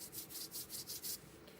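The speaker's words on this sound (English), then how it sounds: "I'm zigzagging back and forth on the chisel edge of this 3/4 flat" A 3/4 flat wash brush zigzags paint across paper on its chisel edge, making soft, quick, rhythmic brushing strokes, about six close swishes in a row, faint and dry-sounding.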